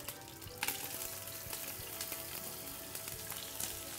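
Meat for Palestinian mansaf drops into a hot pot with spices such as bay leaf, cardamom and black pepper, giving a continuous soft sizzle with a few light clatters, fairly quiet and close.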